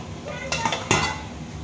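Kadaknath chicken meat dropped into a pan of fried onions: a couple of sharp clattering impacts of meat and utensil against the pan, close and moderately loud, over a low background hiss.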